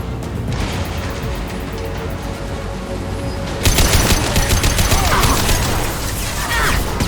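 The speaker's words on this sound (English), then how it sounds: "Open fire!" Rapid automatic weapon fire in Mass Effect 2, a steady rattle of shots that swells louder and denser partway through, with bursts and mechanical clatter filling the scene.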